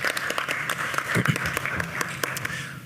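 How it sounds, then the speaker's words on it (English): Audience at a state legislative briefing giving a fairly soft round of applause, steady scattered claps heard at some distance in a large room. "let's give them another round of applause"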